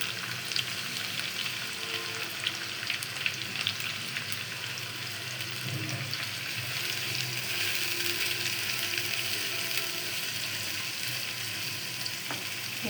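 Onions frying in oil for a liver bhuna, a steady bright sizzle running throughout with faint scraping and stirring clatter underneath, no voices.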